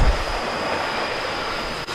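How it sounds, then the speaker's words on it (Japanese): A passing Tokaido Line train roars loudly and steadily nearby in Japan, a dense rushing rumble of wheels on rails with a faint high whine. "東海道線の列車が今抜けていきます。"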